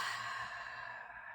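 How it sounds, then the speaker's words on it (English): A single long, loud exhale during a mindful breathing exercise in a yoga-style class, a close breathy sigh that fades out gradually over about a second. "letting it all out with a loud, audible exhale"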